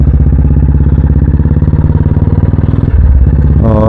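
A motorcycle engine runs loud and close in the early morning, with a steady, throbbing idle rhythm that shifts briefly near the end.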